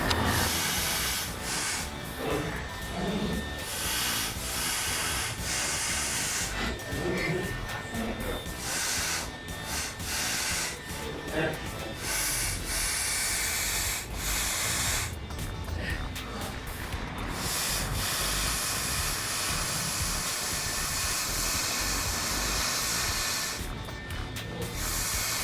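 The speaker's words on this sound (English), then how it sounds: "I like welding thick stuff like this because you don't have to stop and go constantly and worry about burn through" Continuous close welding hiss and crackle on thick steel of a 1967 VW Bus frame, running in long sustained bursts with brief pauses between passes.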